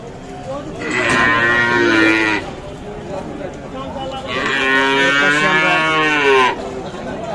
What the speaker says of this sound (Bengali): বেশ কিছু গরু বাধা দেখছি